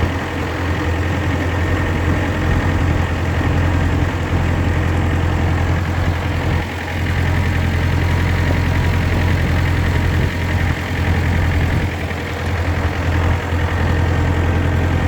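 A Farmall 504 diesel tractor engine idles loudly and steadily with a deep rumbling throb, close by, unchanging apart from a brief dip midway.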